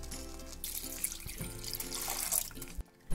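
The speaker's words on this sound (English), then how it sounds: "Add 2 glasses of water." Water splashes from a kitchen tap into a pan holding toor dal, a close, bubbly, uneven pour that cuts off briefly near the end.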